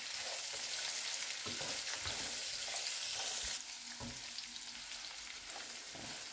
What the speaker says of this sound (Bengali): আমি বরবটি দিয়ে 1 মিনিট মতো আবারও ভেজে নিলাম।